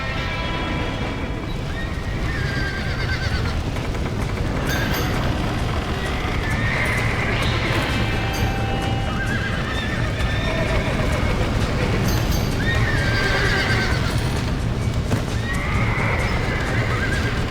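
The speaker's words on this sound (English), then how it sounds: "Now get the horses out!" Horses in the video game Red Dead Redemption whinny and neigh repeatedly over rapid clip-clopping hooves, with a busy game soundscape and voices in the background.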